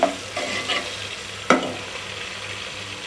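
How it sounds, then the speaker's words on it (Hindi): Chopped garlic frying in a pan for a rajma curry, stirred with a spatula: a steady hiss of sizzling oil with scraping strokes and one sharp clatter midway, close up, with no voices. "इसको 1 मिनट तक फ्राई करेंगे।"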